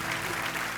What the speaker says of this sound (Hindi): यूलिया के लिए तालियां बजाई जाए